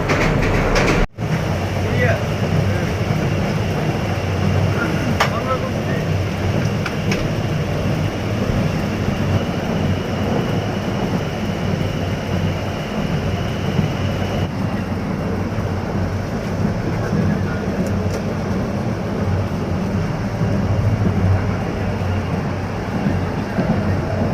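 Interior of the moving Cox Bazar Express train, a steady loud rumble of wheels and carriage noise with faint rhythmic clatter running throughout, one sharp knock near the start, and voices of passengers murmuring underneath.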